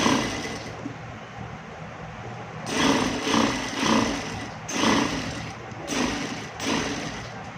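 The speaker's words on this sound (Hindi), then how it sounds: "फिर हम इसकी साइड पे सिलाई करते हैं" Close by, a sewing machine runs along the side seam of a skirt in a series of short, rhythmic whirring bursts after a quiet start, with no talking.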